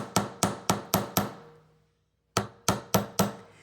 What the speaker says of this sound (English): is some light taps. So it's hardening the wire and flattening the wire.